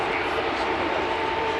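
Emirates A380 airliner just after landing, its engines spooling down in a steady, loud broadband roar with a faint whine that holds for the whole short stretch.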